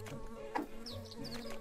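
Summoned bees in the fantasy action game Secrets of Grindea drone with a soft, steady, wavering insect buzz for under two seconds, faint and continuous over low background game sounds.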